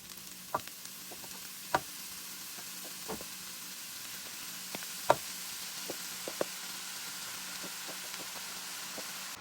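Sliced mushrooms frying with browned onion in a pan, a steady close sizzle broken by scattered sharp knocks and scrapes of a spoon stirring.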